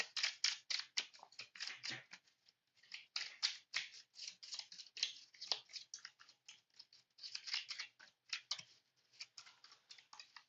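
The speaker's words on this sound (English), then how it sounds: "then I shuffle my deck" Rapid riffling and snapping of a card deck being shuffled, close and fairly quiet, in repeated bursts of crisp flutter with short gaps between, no talking.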